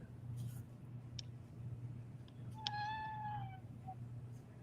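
A house cat lets out a single drawn-out meow, fairly close, over a steady low electrical hum, with a couple of faint clicks just before it.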